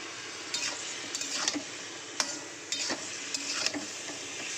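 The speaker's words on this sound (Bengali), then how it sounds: "শুকিয়ে একটু জল দিয়ে মশলাটা ভালো করে সবজিটার সঙ্গে মিলিয়ে নেব।" A spoon stirs spices into a potato and okra curry with water added, scraping the pan in several distinct strokes over a soft steady sizzle, close and fairly quiet.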